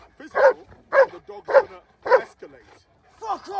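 A German Shepherd barks in a close, regular volley of four sharp barks and then a fifth during protection training, with a handler's raised voice nearby.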